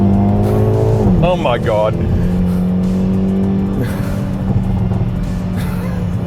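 A 2023 Hyundai i30 Drive-N Limited accelerating from 80 to 100 km/h on an open road, a steady engine drone rising gradually under cabin noise, with a person speaking briefly over it.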